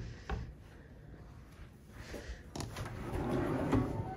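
A drawer in a hotel room chest of drawers slides open and shut, giving a few soft wooden scrapes and a light knock close by with quiet room tone.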